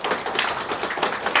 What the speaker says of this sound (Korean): 우리 박수로 한번 환영해 주시겠습니다.